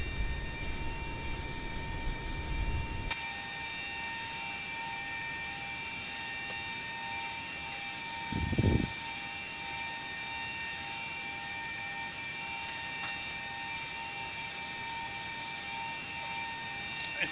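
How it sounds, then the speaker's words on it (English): Steady tonal whine and hum from another aircraft parked nearby at the gate in the X-Plane 12 simulator, a Boeing 737 airliner setting, droning continuously with a brief low rumble partway through. "It's another plane that we're hearing. Probably parked next to us."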